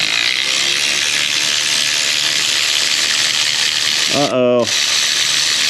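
A cordless ratchet running low on battery whirs steadily with a strained mechanical whine, then briefly bogs down and a voice exclaims, during spark plug work on a 2015 Nissan Pathfinder.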